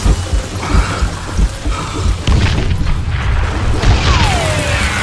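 Dynamite blows up in the Western shooter game Call of Juarez Gunslinger, a loud, heavy boom with crashing debris that rolls on as a dense, noisy rumble throughout.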